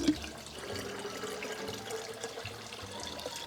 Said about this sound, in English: next we can add 6 cups of water